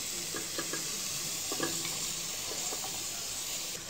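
Mixed vegetables sizzle in a pan with set eggs for fried rice, a steady close frying hiss broken by scraping and stirring clicks, with no talk.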